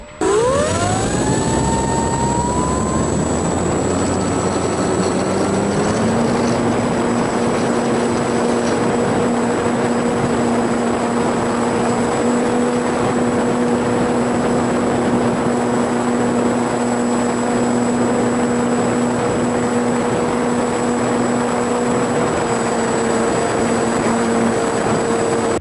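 An E-Flite Apprentice 15e electric RC plane flies steadily for the whole stretch, its loud motor giving a sustained buzzing whine that climbs in pitch early on and then holds a constant tone, with no talk.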